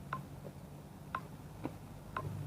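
A timer ticks in a slow, regular rhythm, four crisp clicks about a second apart, faint and close against a quiet background hum.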